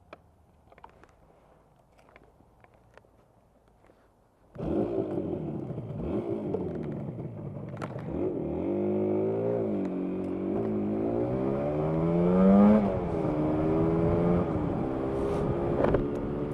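A Yamaha RD250LC two-stroke motorcycle starts out quiet, then the engine rises sharply into a loud buzzing drone, with rising and falling revs as it is ridden through the gears, wind rushing across the helmet-mounted microphone.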